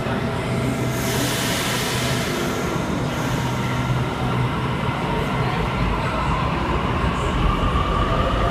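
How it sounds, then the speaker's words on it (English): A Sydney Trains electric train departs Town Hall underground platform, a steady loud rumble of rolling wheels and motor hum with faint squeals, echoing in the station, no talking. "On Platform 1 we have A67 departing for a Campbelltown via Granville service."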